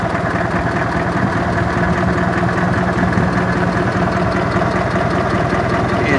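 Minneapolis M670 LP tractor engine idling in good condition, a loud, even, rhythmic low chug running steadily and close with no break.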